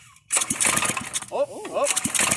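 A rebuilt engine cranks and fires up with a sudden loud burst of running noise, while a person's voice rises over it partway through.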